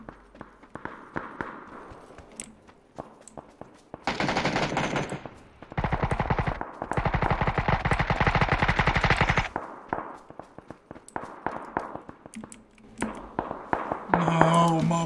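Bursts of automatic gunfire in a PUBG match, two long loud rapid volleys separated by scattered single shots and footsteps, with background game noise throughout.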